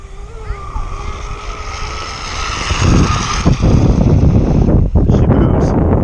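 A Zippkits G30 radio-controlled tunnel hull boat runs below full speed into the wind, its high motor whine rising and growing louder amid gusty wind noise, with a brief voice near the end.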